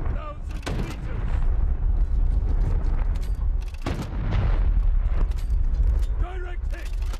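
In the naval video game War Thunder Mobile, a shell strikes a battleship with two heavy booms a few seconds apart over a constant rumbling engine and sea bed of noise, with a brief voice near the end.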